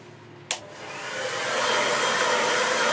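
A hair dryer blasts air across a watercolour painting of a Scottish loch landscape, starting abruptly after a brief click and then holding a steady, loud roaring whoosh that builds slightly and stays constant.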